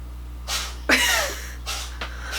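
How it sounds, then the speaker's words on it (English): A cat lets out a few sharp sneezes indoors, two quick bursts followed by one stronger sneeze and a softer one, close and fairly quiet over a low steady hum. "She's a very wheezy cat, and her sneezes will like come out of nowhere"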